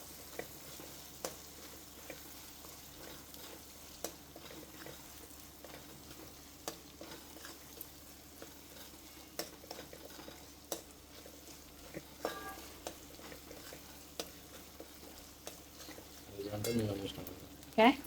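Pizza topping is stirred in a pan with pizza sauce, giving a soft continuous sizzle under regular scraping taps of a spoon, growing busier near the end, with some talking in the background.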